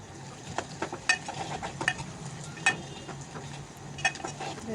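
Vegetable tempering sizzles in a pan with a steady frying hiss, broken by scattered clicks and taps of a spoon against the pan.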